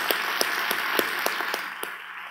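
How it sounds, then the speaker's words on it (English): Audience applause at a mediaFWD conference, a loose patter of clapping with a few sharp, distinct claps standing out at irregular intervals, fairly close and fading slightly at the end. "So let's give them a round of applause."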